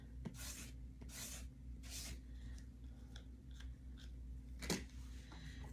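A tool scrapes excess ink across a silkscreen mesh in several short, rasping strokes, quiet and close, with a sharper scrape near the end, over a low steady hum.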